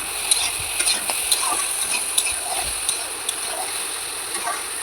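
Turmeric, chili and cumin powders sautéing together in a pan for a fish curry, a bright steady sizzle with soft periodic scrapes of stirring, close and continuous, with no voices.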